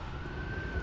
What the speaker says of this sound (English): there's been a lot of sirens going up and down Wisconsin Avenue